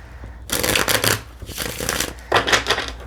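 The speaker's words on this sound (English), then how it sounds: "Let's put those back and shuffle again." Tarot cards are shuffled in quick riffling bursts, three rustling runs of flicking paper close to the ear.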